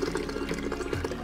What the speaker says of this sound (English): I'm going to strain this into a French press